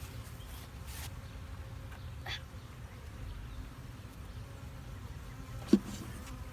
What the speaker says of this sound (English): So the other bees come out.